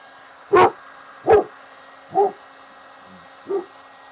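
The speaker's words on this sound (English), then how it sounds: "You're barking at yourself." A single dog barks four times at a slow, uneven pace, each bark loud and close, with the last one a little softer and no voices in between.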